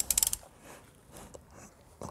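A ratchet with a 12 mm socket and extension loosens a nut on a Hero XPulse 200 4V motorcycle, giving a quick burst of close, rapid clicks at the start, then faint handling noises and one more brief click.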